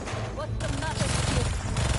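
Rapid turret gunfire in the PS5 game Spider-Man 2, a dense burst of shots rattling continuously for a couple of seconds with game voices over it.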